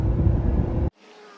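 A Jeep towing a trailer on the road, a steady low engine and road rumble that holds loud and even, then cuts off abruptly partway through, leaving only a faint hiss.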